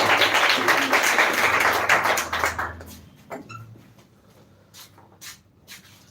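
A school audience claps for the next student speaker at an English speaking competition, dense applause for about three seconds that thins into a few scattered claps and taps before the room goes quiet.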